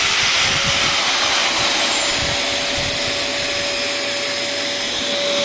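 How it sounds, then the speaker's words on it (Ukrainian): A vacuum cleaner runs continuously on inverter power with a steady, loud whining roar and a high tonal hum, close by and alone. "Пилосос працює."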